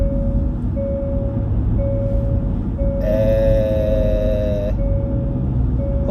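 A rental car's seatbelt warning chime repeats as steady, evenly spaced tonal beeps over a low engine and road rumble. Partway through, a brighter, multi-toned alert briefly sounds alongside it.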